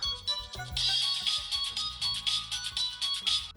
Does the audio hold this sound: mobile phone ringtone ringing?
yes